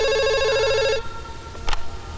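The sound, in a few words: telephone ringing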